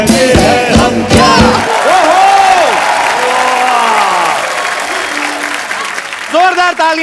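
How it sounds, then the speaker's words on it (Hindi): A studio audience at a comedy talk show applauds loudly with cheers and whoops for guests Yami, Hrithik and Urvashi, following a burst of music; the crowd noise runs long, with voices calling out over it. "जोरदार तालियां यामी, ऋतिक सर और उर्वशी के लिए"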